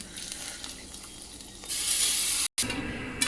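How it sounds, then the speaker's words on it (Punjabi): Corn kernels sizzle in hot ghee in a kadai, a steady broadband frying hiss that jumps louder partway through as the kernels go in, with a brief dropout near the end and no talk. "ਹੁਣ ਆਪਾਂ ਕੜਾਈ ਦੇ ਵਿੱਚ ਪਾਈਏ ਮੱਕੀ ਦੇ ਦਾਣੇ"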